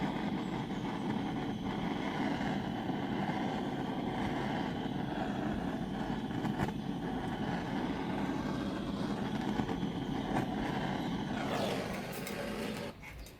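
Large gas torch flame turned right down, giving a steady, continuous roaring hiss throughout while working on a glass fern frond piece, close and unbroken, easing off slightly near the end.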